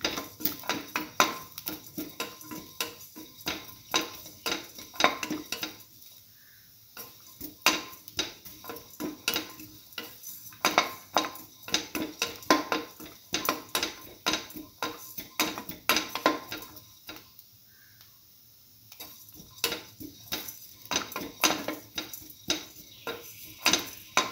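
Scrambled egg and bread stir fry being sautéed in a pan: a steady run of close spatula scrapes and clinks against the metal, with a few brief pauses.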